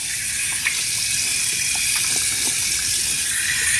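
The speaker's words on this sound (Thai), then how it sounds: "ขอล้างหน้าแป๊บนึงนะ" Tap water gushes steadily and loudly from a faucet into a sink as someone washes their face, a continuous close rushing stream with no talking.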